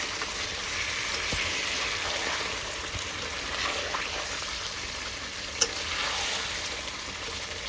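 Meat curry frying in a pan as coriander leaf paste goes in: continuous close sizzling and bubbling with faint stirring scrapes and one sharp tap partway through.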